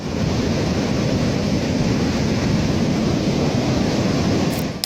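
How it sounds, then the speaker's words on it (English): A raging mud-flow river rushes down a mountain village street, a loud, dense and continuous roar of churning water with constant turbulence and no talk. "It seems that the angle only helps this raging river accelerate and sweep every sign of civilization from the street."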